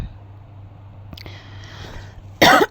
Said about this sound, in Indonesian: Maaf batuk ya.